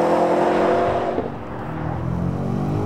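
Turbocharged 617 hp 2020 BMW X5M Competition SUV accelerating, its engine note a loud, close, layered drone that shifts pitch midway and keeps pulling, with no speech.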